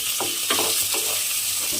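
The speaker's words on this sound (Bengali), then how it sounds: "সেই টমেটোটা আমি এর মধ্যে দিয়ে দেব। দিয়ে একটু নাড়াচাড়া করে নেব।" Sliced tomatoes are stirred into a fish curry in a hot pan, giving a constant close sizzle broken by a few soft scrapes of the spoon.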